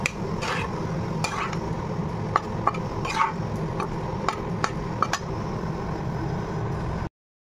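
Eggs are stirred in a pan to make kosha, with a spoon scraping and clinking against the metal in repeated strokes over a constant close sizzle that cuts off abruptly at the end.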